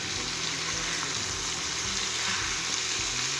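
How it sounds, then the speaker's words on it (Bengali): Chopped, washed snake gourd goes into a hot pan and sets off a loud, continuous sizzle that holds steady without pause, close to the microphone. "এখন এর ভিতরে কেটে ধুয়ে রাখা চিচিঙ্গাগুলো দিয়ে দিচ্ছি"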